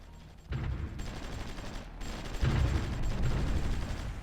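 Gunfire from units attacking enemy artillery in the Supreme Ruler Ultimate strategy game, a fairly quiet run of rumbling bursts and thuds that builds louder partway through.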